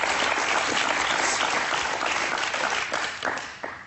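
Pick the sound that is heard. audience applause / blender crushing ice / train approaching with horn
audience applause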